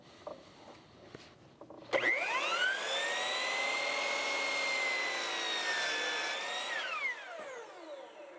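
A power saw spins up and cuts through crown molding trim on a jobsite, a loud sustained whine for about five seconds that then winds down, preceded by faint handling noises.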